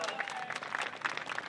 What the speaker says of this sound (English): let's make sure we give her a good cheer too